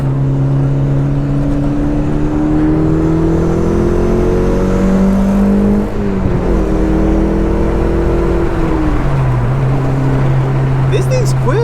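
A 1993 Acura Integra RS with short gearing pulls hard, its engine note climbing steadily through the revs, dipping at a shift near the middle and rising again. The note is loud, close and continuous, and people talk over it.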